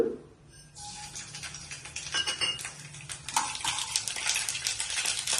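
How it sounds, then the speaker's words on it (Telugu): Mustard seeds hit hot oil in a pan while cooking a traditional Telugu curry, a brief clink of metal giving way to rising crackling and popping that grows denser and louder, close up. "నూనె తాగింది ఆవాలు వేసుకుందాము ఫస్ట్"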